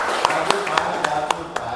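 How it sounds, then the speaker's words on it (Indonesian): Teachers clap in unison, seven or eight evenly spaced sharp claps in a steady rhythm, with a faint murmur in the room. "tepuk tangan buat kita semua"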